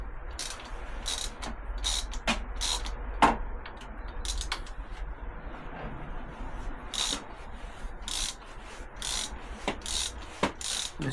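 A ratchet slackening the fork clamp bolts on a Triumph Tiger 800 motorcycle, giving quiet scraping and clicking strokes with a series of sharp, irregular metallic ticks spread across the clip, with no talk over it.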